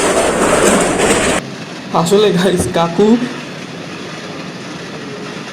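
A passenger train at Ranaghat station makes a loud, rushing rumble that cuts off abruptly, followed by a quieter hum while people talk nearby.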